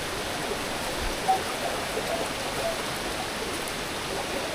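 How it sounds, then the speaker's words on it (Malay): Water of a small stream running underneath rocks, a steady close broadband rush and trickle that stays even throughout, with no voices. "air yang mengalir"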